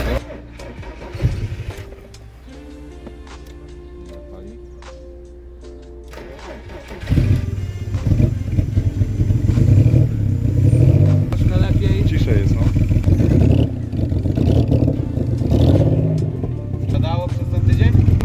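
A custom exhaust on its second fitting, after the first leaked, now sealed with improvised homemade gaskets. Quiet at first, then the engine cranks and fires about midway and settles into a loud, steady run with repeated revs.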